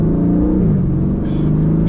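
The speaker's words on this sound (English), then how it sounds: "with the V8 roaring at the back" An Aston Martin Vantage V8 roars steadily at close range, a deep rumbling drone that shifts pitch slightly partway through, with no talk over it.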